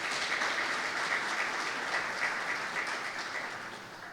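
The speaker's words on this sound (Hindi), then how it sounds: "जोरदार तालियां मेरे खुदावंद के लिए" A church congregation gives loud, sustained applause at a Resurrection Day service, a dense wash of clapping that holds steady for several seconds and thins slightly toward the end.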